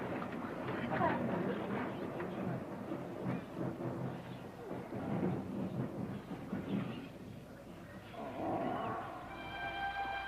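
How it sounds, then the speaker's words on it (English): Deep rolling thunder rumbles through a storm scene in a 1976 documentary film about Noah's Ark, sustained and loud, with a voice and other sounds mixed in over it. "thunder."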